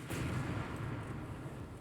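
Enemy warship cannons firing at close range in the naval battle game Ultimate Admiral: Dreadnoughts, a dense rumbling barrage of booms blending into one continuous roar.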